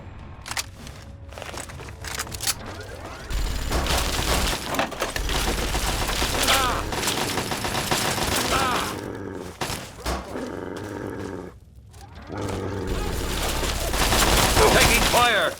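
Gunfire from the video game Fallout 3: repeated bursts of shots and impacts through a busy, continuous mix of game noise, loud and close, with grunts and other effects mixed in.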